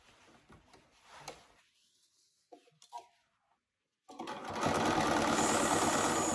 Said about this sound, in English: you're going to stitch right down that short edge to put the waistband, or to sew the waistband to the main pants